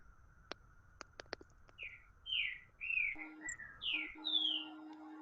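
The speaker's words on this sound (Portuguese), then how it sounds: "Tem um passarinho lindo aí." Small bird chirping outdoors, a run of quick sharp clicks followed by several bright rising and falling chirps, fairly close, over a low steady hum.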